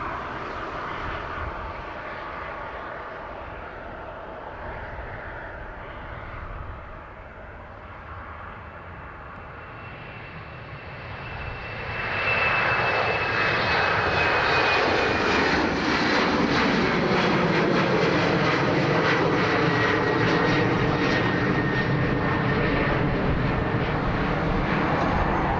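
British Airways aircraft bound for London City at Dublin Airport, a steady jet engine drone that swells louder partway through into a broad, close roar, with no voices.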